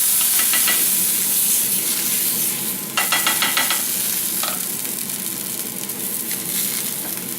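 Pork carnitas sizzle loudly on a hot griddle as moisture is added, a steady hiss with bursts of sharper crackling and spatter as the liquid hits the meat, plus scraping stirs.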